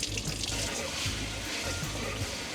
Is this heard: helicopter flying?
no